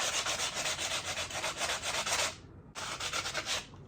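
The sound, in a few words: sanding wood with cork sanding block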